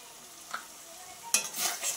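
Jackfruit and shrimp are sautéed with salt and turmeric in a pan, with quiet scraping and one light clink early on, then a louder burst of sizzling and stirring near the end.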